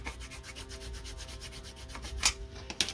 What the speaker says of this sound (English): we'll burnish those down